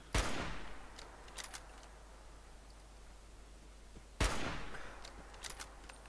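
Two loud gunshots from a weapon in Fallout 4, about four seconds apart. Each is a sharp crack trailed by a fading echo, with faint clicks in between.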